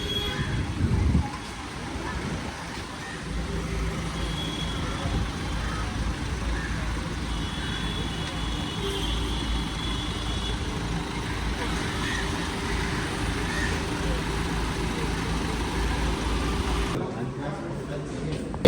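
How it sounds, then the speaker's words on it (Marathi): Dense road traffic crowds the street near a party office where ministers', MPs' and MLAs' cars gather, a steady close rumble of engines and tyres with voices murmuring underneath throughout. "गाड्यांची गर्दी बघा किती आहे."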